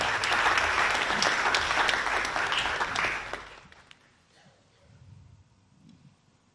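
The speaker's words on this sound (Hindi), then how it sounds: "एक बार जोरदार तालियों के साथ वर्षा जी का स्वागत करें।" A concert audience in Mauritius applauds warmly as a singer walks on stage, a dense clapping that holds for about three seconds and then fades to scattered claps and quiet murmurs.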